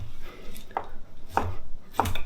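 A knife chops bacon into big chunks on a board for a griddled potato salad: three firm, evenly spaced thuds, close and clear, with nothing else heard.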